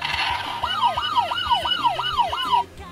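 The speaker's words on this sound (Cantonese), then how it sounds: "高5有救護車聲喎" Electronic ambulance siren effect from a Super Sentai toy gear, a rapid wailing yelp rising and falling about six times over a steady beeping tone, close and clear, then stopping abruptly.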